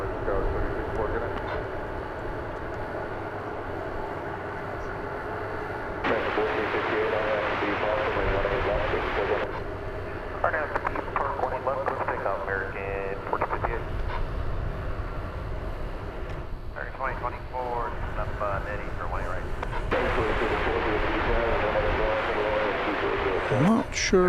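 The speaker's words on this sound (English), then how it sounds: "this plane was not on the runway. It was taxiing." An airliner taxis at DFW Airport, its engines humming and whining steadily and swelling in louder stretches, with people talking over the noise.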